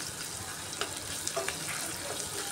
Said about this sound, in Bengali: বাড়িয়ে দিয়ে বারবার নাড়িয়ে এভাবে মুচমুচে করে লাল লাল করে বেরেস্তা ভেজে নিচ্ছি।